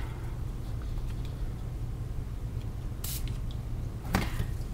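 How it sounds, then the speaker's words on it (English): Two short hissing sprays from a colour spray bottle misting onto a mixed media canvas, one near the middle and one near the end, over a low steady room hum. "And I just randomly spray."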